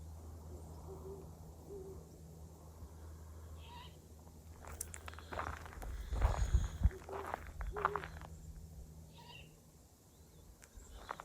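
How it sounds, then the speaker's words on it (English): An owl hoots at night in a desert canyon near a mesa and medicine wheel, soft repeated hoots carrying from a distance over quiet ambience, with footsteps and brief rustling nearby. "That owl's following me."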